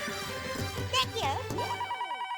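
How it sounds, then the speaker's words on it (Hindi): A telephone rings with a bright electronic ringtone, short repeating tones close by, while a person speaks over it. "एक मिनट, फोन आया, फोन आया, फोन आया।"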